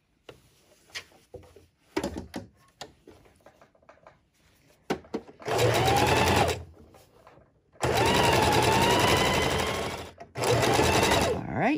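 A sewing machine stitching a neck bone pillow, quiet handling clicks and fabric shuffling first, then two long bursts of fast, loud mechanical whirring and a short final run, close by.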